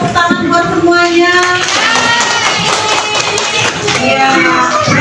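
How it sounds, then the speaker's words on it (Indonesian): A class of young children clapping their hands in a primary classroom, brisk uneven clapping mixed with children's voices and chatter throughout. "Kita beri tepuk tangan buat semuanya."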